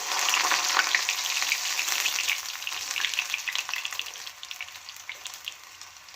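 French fries frying in hot oil in a pan, a dense steady sizzle with crackling spatters that stays close and even throughout before easing slightly near the end.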